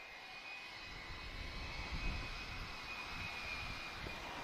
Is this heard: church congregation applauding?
no